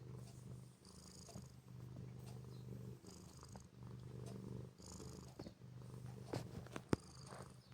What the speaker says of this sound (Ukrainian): подивіться, хто тут муркотить